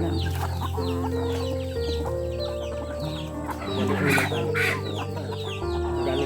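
Several chickens cluck and chatter close by in a busy, continuous farmyard scene, with a short rooster-like call partway through.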